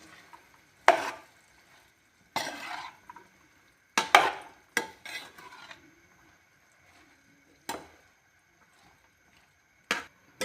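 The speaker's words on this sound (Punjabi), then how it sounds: "ਸਾਰੀ ਸਬਜ਼ੀ ਨੂੰ ਜੀ ਮਸਾਲੇ ਦੇ ਵਿੱਚ ਚੰਗੀ ਤਰ੍ਹਾਂ ਮਿਕਸ ਕਰ ਦਾਂਗੇ" Vegetables and leaves being stirred into spices in a pan for a home-style Punjabi sabzi: intermittent close scraping and clattering strokes of a spoon against the pan, with short quiet gaps between them.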